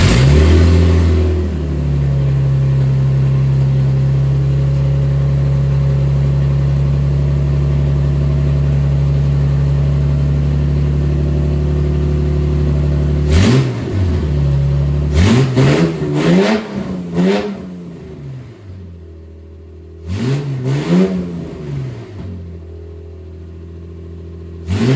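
A car engine fitted with a new transverse Z pipe exhaust, 18 inches of pipe and a few exhaust leaks, idles loudly and steadily, then snaps through several sharp revs in quick succession, settles, and revs twice more.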